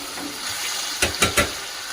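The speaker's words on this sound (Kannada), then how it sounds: "ಚೆನ್ನಾಗಿ ಫ್ರೈ ಮಾಡಿಬಿಟ್ಟು" Ingredients fry in a pan for sabakki uppittu, a steady broad sizzle that ends with three quick stirring strokes close by.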